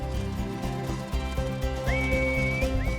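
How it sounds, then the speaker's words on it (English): A shepherd's whistled commands to a working border collie sheepdog in Northern England: clear rising whistle notes near the end, heard over a music bed, with no talk. "using whistled commands."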